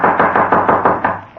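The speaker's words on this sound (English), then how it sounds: "Suddenly, a loud knocking at his door startled him." Loud knocking at a door: about eight rapid, evenly spaced heavy knocks in quick succession, close and alone.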